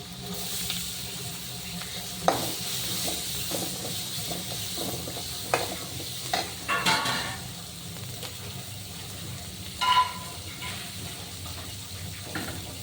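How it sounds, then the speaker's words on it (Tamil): Onions frying and being stirred in a pan while a kurma is cooked, a steady soft sizzle with scattered scrapes and clinks of the spoon against the pan, close and fairly quiet. "இப்போ இதுவே நம்ம வெங்காயத்தை போட்டுக்கலாம்."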